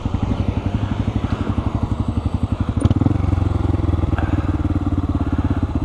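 A Honda Grom motorcycle engine putters close by in a quick, even thumping beat, with a brief clunk partway through as it keeps running steadily.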